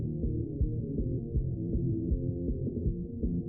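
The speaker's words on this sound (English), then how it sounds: "So here I'm cutting it down to only listening to the lows." Muffled, bass-heavy metal mix filtered to lows only, all highs removed, leaving a thumping kick drum and droning low bass guitar tones.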